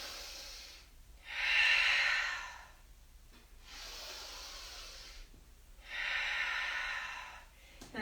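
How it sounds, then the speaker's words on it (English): Slow audible yoga breaths alternate between inhaling and exhaling, with four airy, hissing breaths about two seconds apart, heard close and alone in a quiet room. "Inhale. Exhale. Let the breath be audible."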